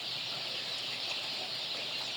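Thousands of young chicks in a large poultry house make a dense, continuous high-pitched peeping wash, steady and even, with no talking.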